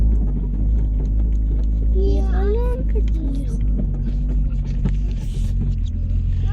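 A Fiat Brava driving off-road gives a steady low engine rumble throughout, with a light chirping sound in the middle.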